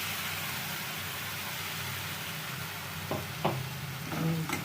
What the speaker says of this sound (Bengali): ভাজা পেঁয়াজটার সঙ্গে ভালো করে মশলাটাকে ভেজে নেবো।